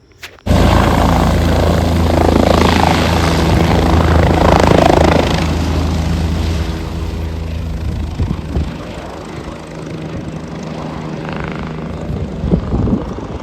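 A helicopter at the Kedarnath helipad gives a loud, close, continuous rotor and engine roar. It holds steady, then eases slightly toward the end, with no talk.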